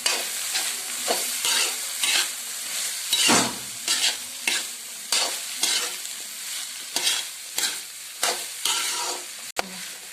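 Vegetables such as green peas, capsicum and beans are stirred and fried in a pan, a constant sizzle broken by repeated rhythmic scraping strokes of a spoon, close and fairly loud with no voices.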